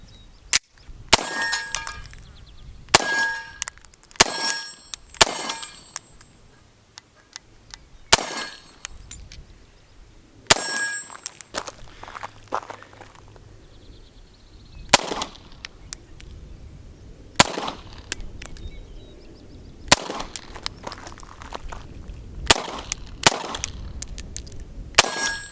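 Beretta 92Xi single-action pistol fired through two magazines at steel targets, loud sharp shots in irregular bursts with ringing metallic clangs from the steel, a brief pause between the two strings, no talking.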